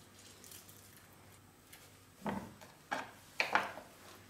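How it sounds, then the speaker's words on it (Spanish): A lemon is squeezed by hand so its juice drips into a mortar, giving three or four short, quiet wet squelches and drips in an otherwise hushed kitchen with no talking. "vamos a partir el limón y vamos a exprimir el zumo, se lo vamos a añadir al mortero"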